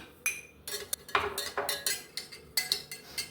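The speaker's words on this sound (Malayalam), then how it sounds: "ഐസ് ക്യൂബ് ഒരു 3 എണ്ണം ഇട്ട് കൊടുക്കുക" Three ice cubes drop into a glass of hibiscus sherbet: several light clinks and taps against glass, a quick irregular series of bright knocks, close and fairly quiet.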